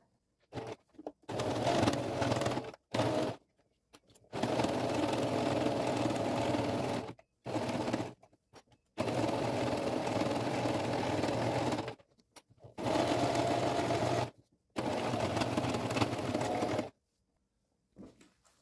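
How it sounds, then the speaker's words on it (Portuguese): A sewing machine stitches all the way around a fabric medicine holder in close, steady bursts of rapid whirring, separated by short pauses as the fabric is turned. "E agora, nós vamos passar a costura em toda a volta"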